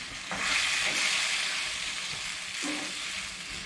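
Chicken stir fry sizzles steadily in a pan over low heat with sauce cooking down, a continuous close frying hiss with a couple of brief stirring scrapes and no talk.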